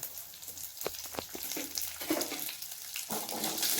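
Small onions go into hot oil with mustard seeds, fenugreek and cumin for sambar, producing a soft, fairly faint sizzle with a few crackles and stirring sounds.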